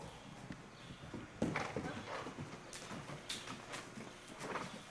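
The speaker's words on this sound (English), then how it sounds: "Trot it, and then we're going to use the wall to stop the horse." A horse trots on soft footing in an indoor arena during a riding clinic, its hoofbeats landing in a steady, muffled rhythm against a roomy, reverberant background.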